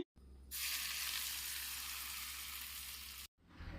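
Hot oil poured into Kerala-style mango pickle and stirred in, giving a loud, dense sizzle that lasts about three seconds and then cuts off abruptly.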